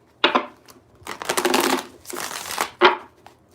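Tarot cards being shuffled by hand in three quick bursts, each a crisp riffling flutter of card stock, close and fairly loud with short pauses between, no talking.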